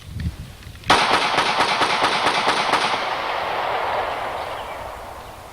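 Rapid string of about eight sharp shots from a 9mm Smith & Wesson 3913 pistol fired close by, loud and cracking, followed by a long echoing decay with no talking.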